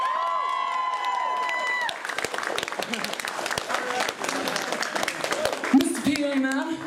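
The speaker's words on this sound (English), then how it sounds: "So a massive round of applause for them," A crowd at the Summer of Sonic 2008 fan convention applauds the event organisers. Scattered then fuller clapping with some cheers follows a voice over a PA, and talk continues over the applause.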